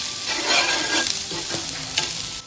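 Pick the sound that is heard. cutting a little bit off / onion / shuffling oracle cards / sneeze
onion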